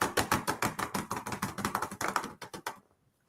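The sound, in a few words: loud computer keyboard typing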